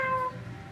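A cat gives one short meow at the very start, then only quiet room tone remains.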